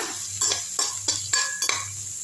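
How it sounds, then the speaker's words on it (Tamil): Chopped onion, crushed garlic and fennel seeds sautéing in a pan for a millet vermicelli kichdi, a low sizzle under five sharp metallic scrapes of a spoon against the pan in quick succession. "எல்லாம் சேர்ந்து வதக்கிடுவோம் நல்லா வதக்கி விட்டுருங்க"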